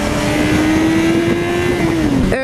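An MV Agusta F3 800 motorcycle engine held at a high, steady rev for a couple of seconds, then easing down before a sharp throttle blip, loud and close with no talk.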